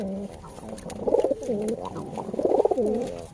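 Giribaz and Mardasi pigeons coo back and forth in a close, soft exchange of low, rolling calls that swell twice, with no talking.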